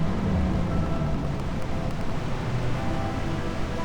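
Steady, dense rain and storm noise in the video game Reverse: 1999, with a deep rumbling low end, continuous and fairly loud throughout with no talking.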